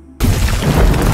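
A grenade detonates in an action film, a sudden loud boom bursting out of near silence and then rumbling and crackling with debris for about a second.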